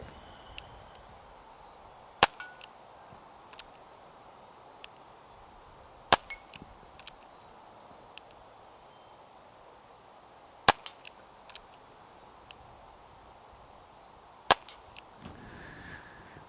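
A Walther CP88 Comp semi-auto air pistol fires single sharp cracks spaced several seconds apart, each trailed by faint clicks and small knocks, against a quiet room background.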